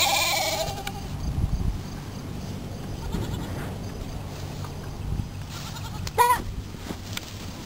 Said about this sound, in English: That was a baby goat getting zapped.